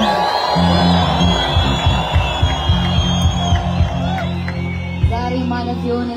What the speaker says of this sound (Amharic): እስኪ ጩኸት እልልታ ከዚህ በላይ ነው።